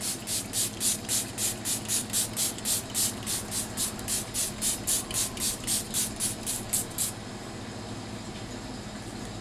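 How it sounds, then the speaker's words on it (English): Milani Make It Last setting spray fires in a steady series of about twenty quick, close misting pumps, evenly spaced. Then it stops and quiet room tone remains. "We're going to use some Milani Make It Last setting spray."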